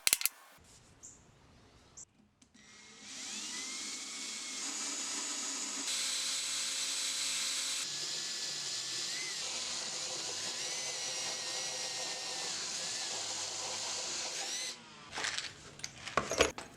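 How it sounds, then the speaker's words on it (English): A power drill boring holes in a Wharncliffe knife handle, a steady loud whine held for around twelve seconds after a short start, then stopping with brief clatter at the end. "where I'll be drilling all of the holes in the handles"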